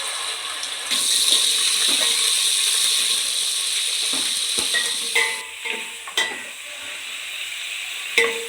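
Mutton bones from a kheema batch sizzle in hot oil with a masala tempering for kaima unde sambar, a steady bright hiss broken by clinking, scraping stirs and a few sharper pops, close and fairly loud with no talking.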